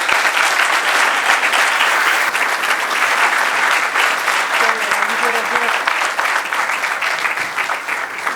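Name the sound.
audience applause after a keynote speech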